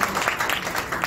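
Dense applause from an audience at a Marathi poetry recital fills a brief moment, a uniform wash of many hands clapping.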